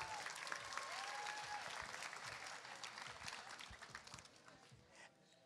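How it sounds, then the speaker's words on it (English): Audience applause at the GalaxyCon Raleigh 2022 runway costume contest, a sustained wash of clapping from a sizable crowd that holds steady before thinning out near the end. "Another round of applause for them"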